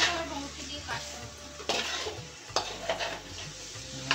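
A spice paste is sautéed in a pan while hilsa fish waits nearby. A spoon scrapes and stirs against metal in irregular bursts over a soft, close sizzle, with faint voices.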